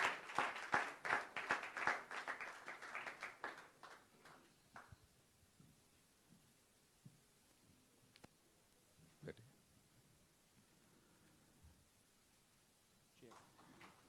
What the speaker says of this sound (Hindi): गाइस, जोरदार तालियां होनी चाहिए।